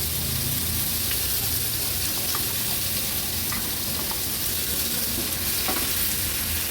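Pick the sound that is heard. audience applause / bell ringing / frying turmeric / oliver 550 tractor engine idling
frying turmeric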